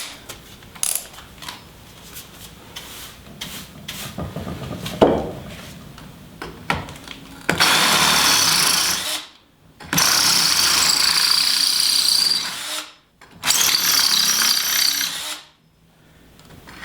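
After some quiet clatter and handling, a power drill with a 3/8 inch bit bores into wood for a tiny house compost toilet frame in three loud bursts, separated by short pauses.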